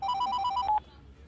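A telephone rings with a rapid warbling electronic trill, loud and clear, repeating for under a second before stopping abruptly into a quiet room.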